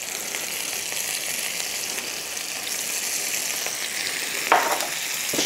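Breakfast bacon and fried potatoes frying in a pan for a farmer's breakfast, giving a loud continuous close sizzle with one brief stirring scrape near the end and no talk.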